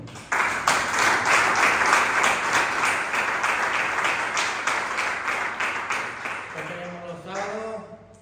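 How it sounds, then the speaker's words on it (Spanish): A church congregation breaks into a strong round of applause, loud sustained clapping starting abruptly and lasting about six seconds before a voice takes over near the end. "Dan un fuerte aplauso al viernes"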